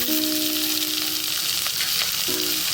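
Vegetables sauté in a pan for Chettinad kuzhi paniyaram, giving an even, close-up sizzle with faint stirring scrapes and no speech.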